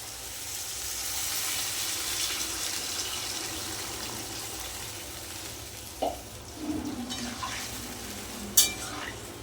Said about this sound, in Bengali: এবার জল দিয়ে দেব আলুও ভালোভাবে সিদ্ধ হয়ে গেছে একদম জল দিয়ে দেবো